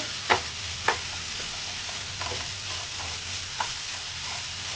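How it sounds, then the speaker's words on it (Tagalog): Ham frying in a little oil in a pan, a quiet, steady sizzle with a few sharp clicks from the pan or utensil, close by and faint, with no talking. "lutuin ko na muna yung ating ham. So, naglagay lang ako ng konting oil."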